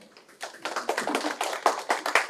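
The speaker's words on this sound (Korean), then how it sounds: "박수 한번 쳐주실까요?" Applause from a lecture audience in a hall, a brief burst of hand claps that builds quickly and stays steady for about two seconds, fairly close and with no voices over it.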